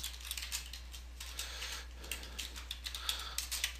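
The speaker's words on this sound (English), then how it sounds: "I can go in here and I can just type them out" Keywords being typed on a computer keyboard, a quick, uneven patter of light key clicks heard up close, with no talk.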